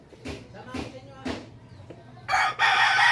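A Kanawayon cross gamefowl rooster crows loud and close in a farmyard, with a series of short clucking calls before one long full crow, alone without talk.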